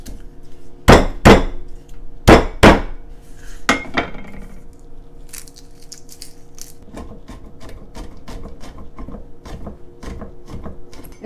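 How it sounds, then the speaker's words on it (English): Garlic for ramen is bashed hard on a board, with several loud, sharp thumps in quick pairs, then a run of lighter, quicker taps and knocks. "so you kind of want to bash it a little bit so that the oils come out"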